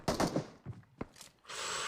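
Gunfire in PUBG Mobile, a few sharp shots near the start followed by isolated cracks and a sustained burst of noisy rattling at the end, with no talk.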